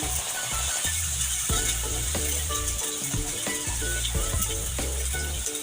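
Garlic ginger paste fries in a pan with a steady, loud sizzle that fills the whole stretch, with occasional faint clinks and mechanical ticks underneath, while making beef koila karahi.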